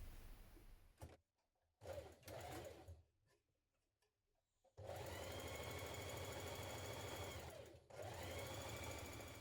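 A sewing machine stitches sleeve pieces together, with two short bursts first, then a long steady run of loud, close mechanical whirring and a brief pause near the end.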